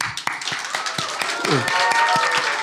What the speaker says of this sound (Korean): 하나님 앞에 뜨거운 박수.